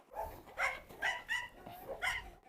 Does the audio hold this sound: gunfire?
no